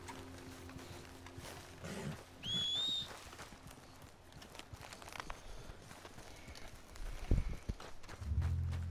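A horse walks in Red Dead Redemption 2, its hooves clopping softly and unevenly at middle distance, with a brief high whistle-like tone early on and a few heavier thumps near the end.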